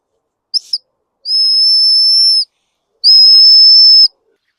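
The whistle built into a 17-in-1 multitool gives two shrill, loud, steady blasts about a second each, after a couple of quick short chirps at the start, with silence between.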